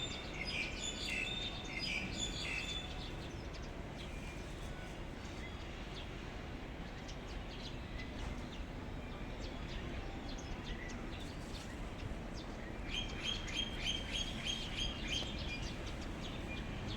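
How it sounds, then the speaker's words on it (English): Birds sing and chirp in a tree full of birds, with faint bursts of twittering at the start and again near the end over a steady, noisy outdoor background. "The bird is singing."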